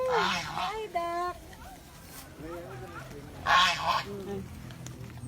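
Ducks at a zoo quack and honk nearby in a few short nasal calls, mixed with people chatting and a voice.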